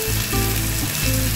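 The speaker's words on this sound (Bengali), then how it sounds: "এটাকে একটু ভেজে নিচ্ছি, তারপরে ফিরে আসছি।" Tomato paste with a green chilli fries in a pan, giving a close, loud, dense crackling sizzle through a short moment.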